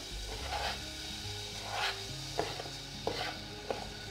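Chopped onions fry quietly in a pan with a soft, low sizzle, while a utensil stirs and scrapes and taps the pan several times.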